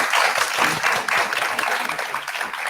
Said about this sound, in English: Please make a round of applause for all of our panelists.